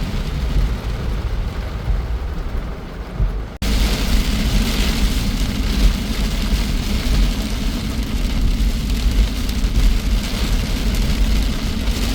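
Heavy rain pours down in Dubai, heard from inside a vehicle as a dense, steady roar with a low engine rumble underneath. A brief cut partway through is followed by an even louder downpour.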